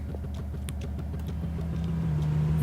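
A car engine in Goat Simulator: Pocket Edition hums steadily at mid pitch, its tone rising slightly toward the end, with faint clicks over the top and no talk.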